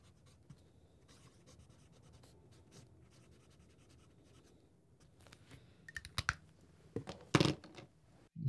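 A Sailor fountain pen with a broad nib writes on paper with a faint, continuous scratchy rasp, followed by louder handling taps and rustles near the end.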